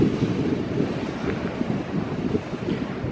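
Rough ocean surf and cold wind at Utqiagvik, Alaska, a steady low roar of breaking waves with gusts buffeting the microphone, loud and continuous with no voices.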